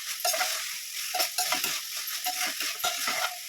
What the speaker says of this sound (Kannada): ಎಣ್ಣೆ ಕಾಯ್ತೈತೆ, ಕಾಯ್ದ ಸಾಸಿವೆ ಹಾಕೋಣ.